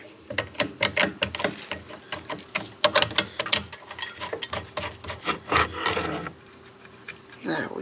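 A drill bit being worked back out of an FE engine block, heard as a run of rapid ratcheting, grinding and scraping bursts at close range, uneven in rhythm, with a short pause near the end.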